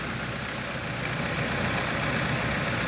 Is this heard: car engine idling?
yes